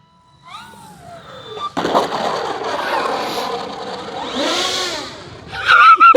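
E-flite T-28 Trojan V2 RC plane's electric motor whirring up as the throttle opens, a rising, buzzing whine that swells, dips, then surges again near the listener.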